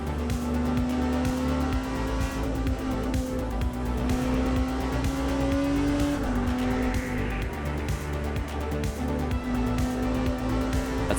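A race car at Le Mans runs through the Porsche curves, its engine a steady, loud drone that rises and falls with gear changes, and wind and road noise sit over it.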